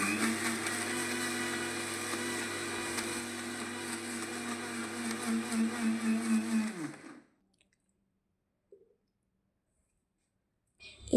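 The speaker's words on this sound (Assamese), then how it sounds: "এতিয়া মিক্সিটো অলপ অলপকৈ দি চলাই ল'ব, একেবাৰতে বহুত দেৰি ঘূৰাই নিদিব" A mixer grinder whirs steadily for about seven seconds while grinding rice with beetroot for coconut pitha, then winds down and stops, leaving near silence with a couple of faint clicks.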